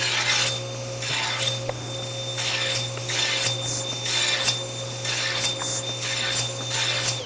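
A wood board being resawn on a bandsaw fitted with a micro kerf blade, producing rhythmic rasping strokes over a steady machine hum, loud and close without speech.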